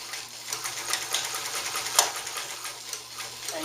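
A vintage Japanese Sterling Class 15 sewing machine stitches through thick folded canvas, a quiet, steady rapid clatter of the needle running continuously with one sharp click partway through.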